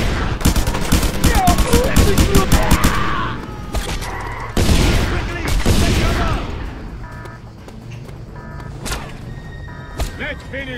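Loud, close gunfire from the video game Just Cause 2 arrives in rapid bursts and heavy booms through the first half, then thins to scattered single shots, with voices talking in between.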